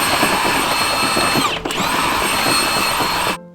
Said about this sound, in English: I'll just break out the impact wrench and get it super tight